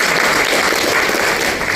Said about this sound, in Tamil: லதா அவர்களுக்காக ஒரு கைத்தட்டல்